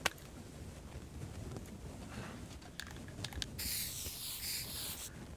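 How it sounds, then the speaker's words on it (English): Aerosol spray paint hissing from a can in The Long Dark survival game, a steady airy spray starting midway and holding for a couple of seconds over quiet footsteps and handling. "Also, we can put a spray paint on here."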